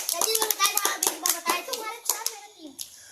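Children in a classroom quiz clapping loudly in an uneven burst of claps, with children's voices mixed in before the clapping fades out.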